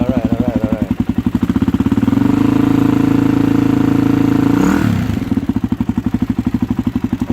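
A 2013 Suzuki DRZ400SM single-cylinder motorcycle starts for the first time after fluids were added, its engine clattering steadily at idle, briefly revving and holding higher before dropping back to a lumpy, even idle close by.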